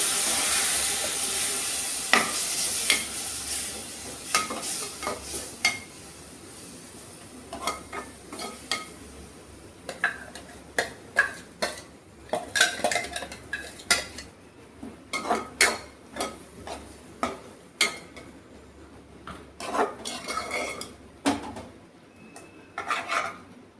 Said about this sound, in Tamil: இதை போட்டு அப்படியே நல்லா ஒரு கிண்டி விட்டுட்டு